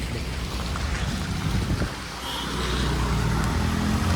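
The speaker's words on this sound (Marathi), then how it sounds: "पाऊस काही थांबाचं नाव नाही घेत." Steady heavy rain pours down outdoors in a parking area near a hill temple, forming a dense continuous hiss with some vehicle noise underneath.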